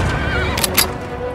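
A horse whinnies loudly in a Western film, a sharp, shrill neigh over a background soundtrack, with a faint clatter of hooves.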